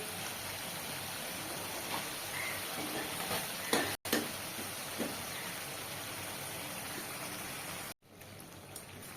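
Masala sautés in oil until the oil separates, giving a steady, close hiss and sizzle with faint stirring scrapes and a couple of brief clinks, the sound cutting out twice.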